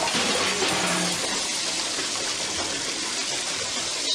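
Running water gushes steadily and noisily nearby, a constant rushing splash with no pauses.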